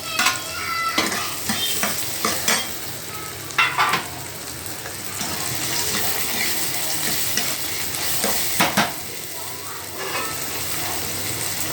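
Onions sautéing in a pan for paneer bhurji, a continuous loud sizzle with repeated spatula scrapes and clatters in an irregular rhythm, close up and alone without voices.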